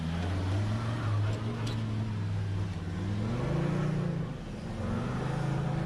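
An off-road vehicle with its rear locker engaged climbs a dirt hill track, its engine droning steadily at low revs, rising and falling with throttle.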